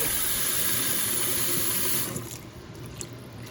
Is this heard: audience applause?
no